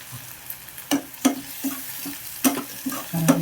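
Curry leaves hit hot oil with onions in a pan on an Indian curry stove, giving a soft, steady sizzle with light spoon scrapes and stirring taps at uneven intervals, close by and fairly quiet.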